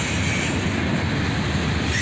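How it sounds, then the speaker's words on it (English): A southbound Norfolk Southern freight train led by EMD SD43 and SD42 diesel locomotives rolls past close by, a loud, steady rumble of wheels and cars on the rails with a faint squeal above it, and no one talking. "This train was J783, heading south to Cincinnati, the counterpart of the train we just saw."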